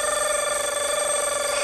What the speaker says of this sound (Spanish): ¡Despertador!